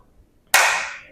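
Students in a classroom counting game give a single sharp hand clap, close and crisp against near silence, decaying quickly.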